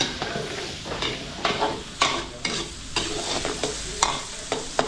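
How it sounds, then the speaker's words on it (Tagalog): Garlic and onion sauté in a hot pan at a Filipino catering kitchen cooking pork dishes, a steady loud sizzle broken by repeated sharp stirring scrapes every second or so, close by with no talking. "papulayin muna natin itong bawang sibuyas"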